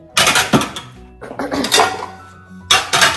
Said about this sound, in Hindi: चलिए बर्तन भी जमा देती हूँ